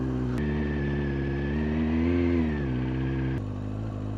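A motorcycle engine revs hard and high during slow-control rider training, a loud close steady drone that surges up in pitch midway, eases back down and dips briefly near the end.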